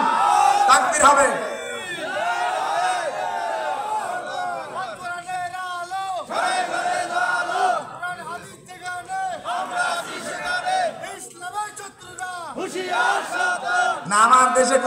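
A large crowd at a Bangladeshi Islamic sermon gathering roars takbir in repeated loud collective shouts, with waves of cheering voices rising and falling and a voice leading between them.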